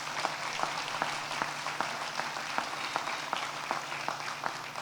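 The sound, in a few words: audience applause at a ribbon cutting ceremony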